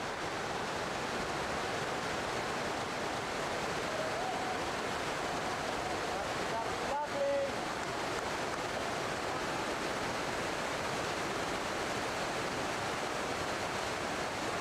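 Whitewater pours over a 12-metre waterfall on the upper Tora River, a dense, constant roaring rush heard at steady loudness with a brief clatter midway.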